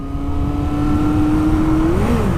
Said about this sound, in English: The moment you touch that clutch, it just disengages and the engine revs.